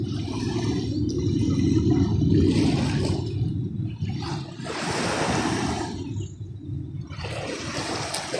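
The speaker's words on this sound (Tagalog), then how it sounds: "Lakas sa alon" Surging ocean waves roar and wash in repeatedly, a loud rushing surf that swells and recedes in cycles, with no voices.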